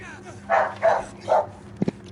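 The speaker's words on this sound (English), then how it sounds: "I hear dog." A dog barks three times in the distance, short muffled woofs, followed by a couple of faint knocks, heard faintly in a quiet room.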